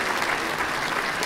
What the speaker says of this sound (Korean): 모두 박수.